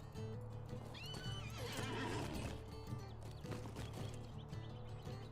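A rider's horse mount in the online game The Lord of the Rings Online neighs loudly and then clip-clops along in steady hoofbeats over game ambience and soft music, with no talking.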